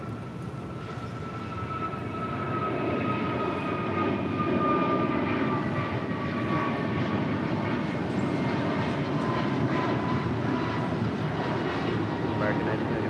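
An airliner on approach to land on runway 25 left at Los Angeles International Airport, a broad steady engine roar with a faint rising whine, continuous and fairly close, with radio chatter faintly underneath.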